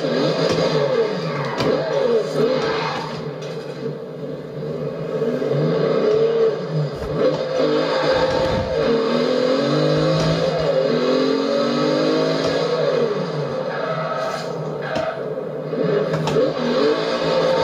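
Engine of a 1987 Buick Regal GNX in the Forza racing game revs and pulls through rising and falling gear sweeps, a steady loud motor drone with shifts and brief dips, no talk.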